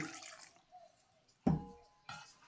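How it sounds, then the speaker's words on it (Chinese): Three or four red dates swished and rinsed in a little water in a bowl: brief close splashes and sloshes separated by quiet gaps, with no talking. "红枣加点水洗一洗"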